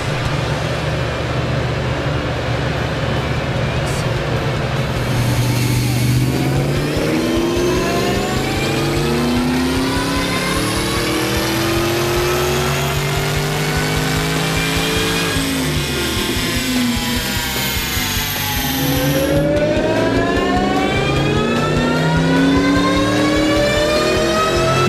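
A Mustang Cobra engine revs up continuously on a dyno, climbing steadily to a high scream, dropping briefly, then climbing again, loud and close.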